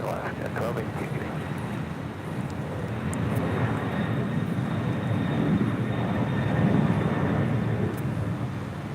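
Boeing 767-300ER freighter jet at LAX, a broad engine roar that swells gradually over several seconds at moderate distance, with a voice speaking over it.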